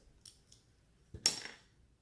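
A knife or scissors tip punching a hole through a Christmas candy ornament gives one sharp crack and a brief crunchy crumble, preceded by two faint light taps, with no talking.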